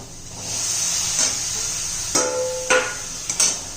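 A steady steam hiss from a covered pan of bitter gourd cooking without water, with a few clinks and knocks of a lid or utensil on top.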